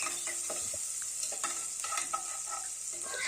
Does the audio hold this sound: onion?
yes